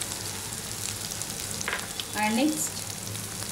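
Crushed ginger, garlic and whole spices such as cinnamon stick sizzle and crackle steadily in hot oil in a pan for mutton dalcha, with a brief stirring burst and a short spoken phrase over the frying.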